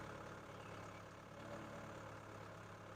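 A Cat A287B skid steer's engine idles steadily at close range, a low constant drone with a rough mechanical rumble and no change in speed.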